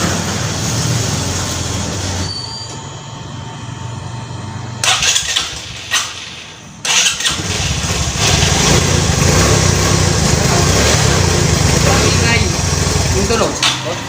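A noisy motorcycle engine cranks and fires up, running rough with fluctuating revs, stalling briefly before restarting and settling into a loud, rattly idle close by while someone talks intermittently.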